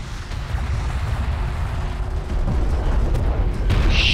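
KPC ship firing weapons in Deserts of Kharak: heavy booming fire rumbling low and continuous, dense and loud with a few sharper cracks and a brief high hiss near the end.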